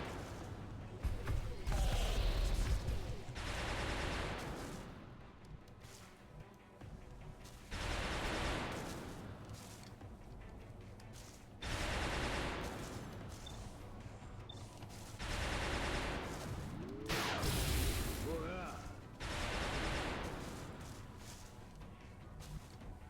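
Soldiers fire guns in the turn-based strategy game XCOM Long War, with several loud bursts of gunfire and impacts spaced out over the stretch under steady game noise.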